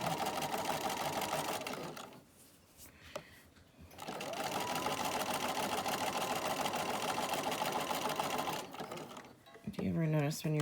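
A sewing machine stitches a holiday mini quilt binder cover in long steady runs of rapid whirring, stopping briefly midway and again near the end, close up, while someone talks over it.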